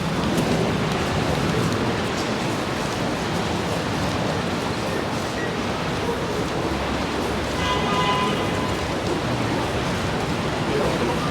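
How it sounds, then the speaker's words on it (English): Rain pours onto a Sydney city street, a steady broadband hiss of falling water with faint urban background, continuous and fairly loud across the whole stretch. "when the rain comes down"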